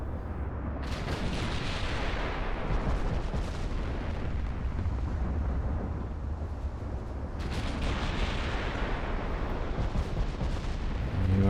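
Warship secondary guns firing in an Ultimate Admiral: Dreadnoughts naval battle, a dense continuous barrage of booming gunfire with a brief lull before another heavy burst of shots.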